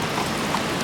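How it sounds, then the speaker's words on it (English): Heavy monsoon-like rain pouring outside a garage in freezing weather, a dense, steady hiss of rainfall that fills everything with no pauses. "Like monsoon pouring rain."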